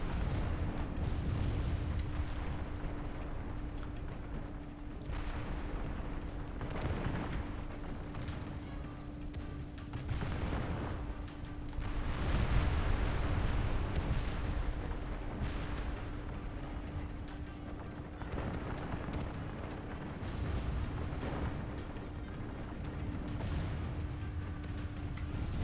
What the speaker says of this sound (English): We've still got artillery blowing up the center.